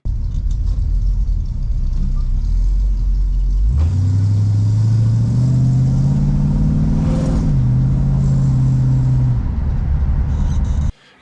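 A car's engine and exhaust, captured on a GoPro, idle with a low rumble, then rev up sharply, hold a rising higher drone through several steps, and drop back before cutting off, loud and close throughout.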